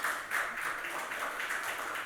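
A congregation at a Korean church service in Chile gives a soft, diffuse round of applause to welcome a young woman attending for the first time, a continuous wash of many hands at moderate volume.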